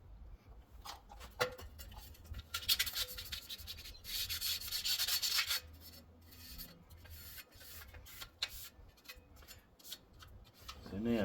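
A glass sliding door track is scrubbed and cleaned out in bursts of close, gritty rubbing and scraping with uneven pauses between strokes. A louder stretch of brushing sits in the middle, and no one speaks.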